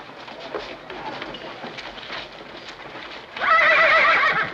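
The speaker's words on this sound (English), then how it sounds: "You scare my horse." Hooves clip-clop softly in the background, then a horse lets out a loud, shrill whinny that fills the last second.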